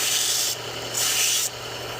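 A pocket knife blade bevel is sharpened with repeated abrasive strokes, a close, gritty rubbing that swells and fades in two or three passes.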